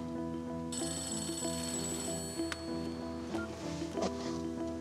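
An old-style telephone bell rings indoors in rapid repeated trills, loud and close, with faint rustling and small knocks around it and no speech.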